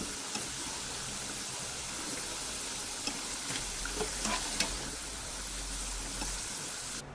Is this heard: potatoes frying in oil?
yes